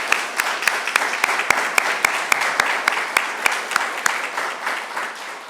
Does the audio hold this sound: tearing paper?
no